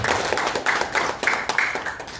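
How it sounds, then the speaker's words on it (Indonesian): An audience at a pencak silat festival jury training in South Tangerang gives a brief round of applause: scattered, moderately loud clapping that comes in uneven bursts. "Kita tepuk tangan dulu buat."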